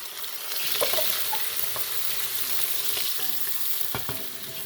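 Sliced onion frying in oil in a large pot for a masala pulao, a steady broad sizzle with scattered crackles and a few stirring scrapes, close and fairly loud, with no talking.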